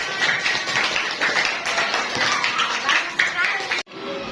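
Children and teacher applauding together in a classroom lesson, a busy run of claps and taps with voices mixed in, ending abruptly before a quieter tail.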